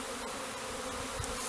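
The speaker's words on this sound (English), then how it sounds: "we have a lot of confused bees up here because they can't find their hive" A swarm of confused honey bees that cannot find their hive, buzzing as a steady, dense drone around a bait box, close and continuous.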